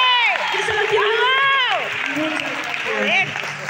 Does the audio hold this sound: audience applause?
yes